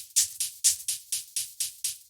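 Hi-hats from a high tech minimal track tick in a steady, even pattern of about nine crisp, bright hits, each closely followed by a softer upbeat shaker, alone and fairly quiet.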